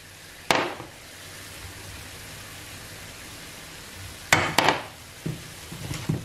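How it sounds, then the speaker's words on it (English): Ground meat seasoned with onion powder, salt and pepper being stirred in a pan, with a steady soft sizzle and a few sharp utensil clanks and scrapes against the pan. "And then just mix that up a little bit."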